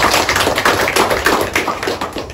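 Audience clapping at a gathering in Gujarat, a dense steady patter of many hands filling the space, loud and close throughout with no voices over it.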